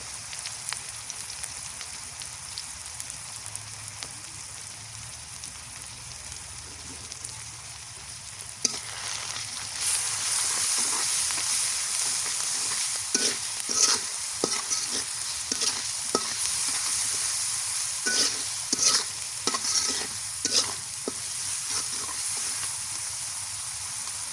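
Spice paste with turmeric powder and salt is sautéed in a pan, a soft hiss that jumps to a louder sizzle partway through, then repeated scraping stirs at an irregular rhythm.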